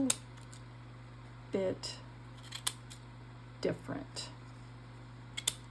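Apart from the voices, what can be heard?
small scrapbooking scissors cutting paper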